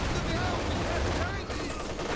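Dense, continuous battle noise from a Company of Heroes 2 match, with gunfire and distant shots blending into a steady rumbling wash that barely lets up.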